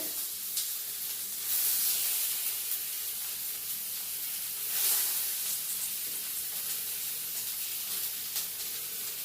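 Fish sizzles in hot oil with curry leaves in a pan, a steady close hiss with two louder spitting surges, no one talking.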